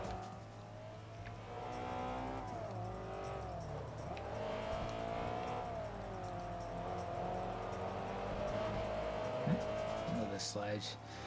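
Honda S2000 in Forza Motorsport 3 with a steady engine drone, rising and falling in pitch through corners, and a short burst of tire squeal near the end, under someone talking.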